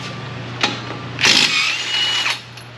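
A power tool, likely an impact wrench, breaks loose the 21 mm nuts on the steering knuckle of a 2014 Ram 1500, giving short, close, loud mechanical bursts and rattles over a steady low hum.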